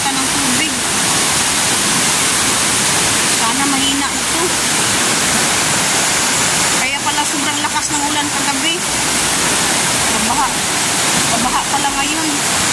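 Floodwater in the Piñan River rushes in a dense, constant roar, loud and close, while people talk over it now and then.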